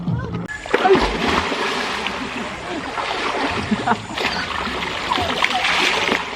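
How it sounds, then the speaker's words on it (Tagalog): Someone dives into clear outdoor water, giving a splash near the start followed by sloshing and churning water with bursts of spray throughout, while voices are faintly present. "Dali ka pag-dive."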